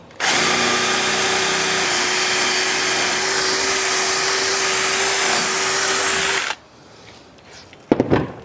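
A power drill whines continuously for about six seconds while boring a hole for a wooden eave, loud and close, then stops, followed by a few clunks.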